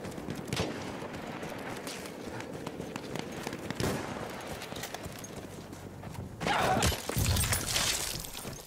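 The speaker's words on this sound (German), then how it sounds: "Ich werfe eine Granate!" A grenade explosion in Battlefield 1: a sudden loud, crackling blast near the end that follows several seconds of quieter scuffling and clattering game noise.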